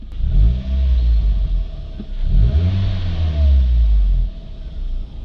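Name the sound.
manual supercar engine revving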